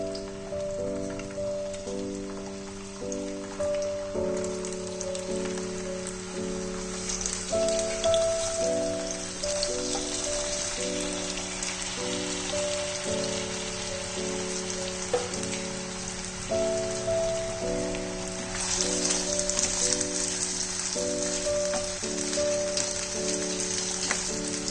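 Taro (kochu) pieces frying in hot oil, a dense crackling sizzle like rain that runs throughout, with steady music playing over it.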